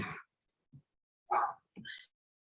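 A few brief, faint dog barks and yips come from indoors, separated by short silences.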